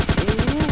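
Rapid automatic gunfire from a video game, a steady rhythmic burst of repeated shots lasting under a second, loud and close with no talk over it.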